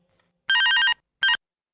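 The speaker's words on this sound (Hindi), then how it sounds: "फोन बज रहा है" A telephone rings with an electronic trilling tone in two bursts, a longer warbling ring followed after a short gap by a briefer one, loud and clear against near silence.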